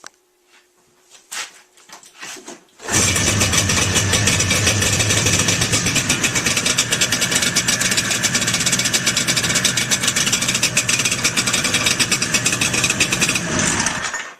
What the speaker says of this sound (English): I'm going to set the camera down here and I'm going to do a startup.